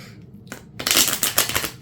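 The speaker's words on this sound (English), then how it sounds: "Shuffle again." A deck of playing cards is shuffled close up: a soft tap, then a dense, crisp riffling flutter of cards lasting about a second.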